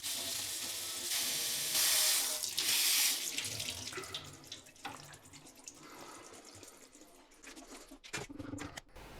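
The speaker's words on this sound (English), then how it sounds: "Drain and rinse the pitted Kalamata olives." A kitchen tap runs water over pitted Kalamata olives in a sink, a loud steady rush for about three seconds that thins to drips, trickles and light clatter, with no voices.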